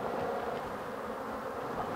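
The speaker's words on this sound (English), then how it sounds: "I'm trying to converge the bees in one place so that I can lift them and put them in what?" Honey bees swarming in a Kenyan top-bar hive during colony division, a steady dense hum of many wings filling the space, close and continuous with no voices.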